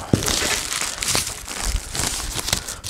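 A big plastic bag being handled crinkles and rustles close to the microphone in irregular bursts, with sharp crackles throughout, heard alone.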